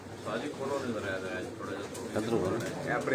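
Breeder pigeons coo steadily in a loft, their low throaty calls mingling with a voice speaking over them.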